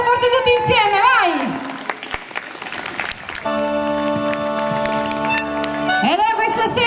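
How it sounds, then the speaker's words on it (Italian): An outdoor Salento folk music evening crowd claps for the organizing committee, the applause mixed with a sustained musical tone, whistles and voices, loud and continuous throughout. "noi vogliamo iniziare facendo un bel applauso al comitato organizzatore, forte forte tutti insieme"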